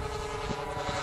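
A twin-engine radio-controlled camera plane with two 26cc CRRC petrol engines, running at half throttle in flight, gives a steady, loud, buzzing drone with no break.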